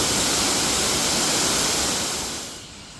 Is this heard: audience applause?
no